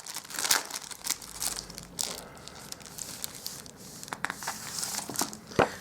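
Glossy laminate sheet for sticker paper crinkling and rustling as it is pulled out of its pack, a close series of crisp crackles and crumples with brief sharp peaks.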